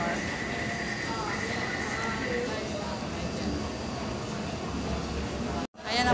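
An MRT train arrives at a station with a steady, loud rail rumble and hum throughout, some high-pitched squeal, then an abrupt cut near the end followed by renewed noise.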